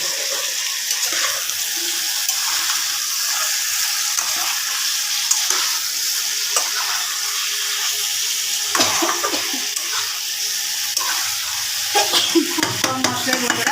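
Pieces of fried chicken going into hot oil in a home kitchen: a continuous close sizzle with stirring scrapes and clinks, growing busier and more clattery toward the end, with no speech.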